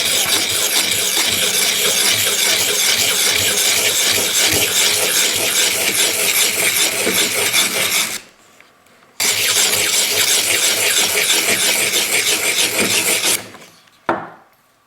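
A file rasps dry against a steel knife blade to remove its serrations, a loud, close, continuous scraping in rapid back-and-forth strokes that stops briefly and then resumes before ending.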